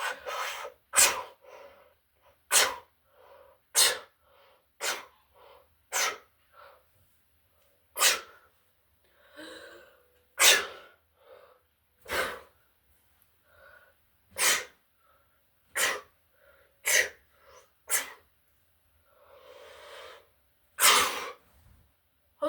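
Someone sneezes over and over, roughly a dozen sharp, loud bursts spaced a second or two apart, with breathy gasps and sniffs between them in a quiet room.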